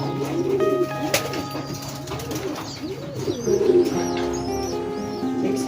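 Racing pigeons back from a derby coo repeatedly up close, soft rolling calls with a few chirps and faint wing movement, no talking.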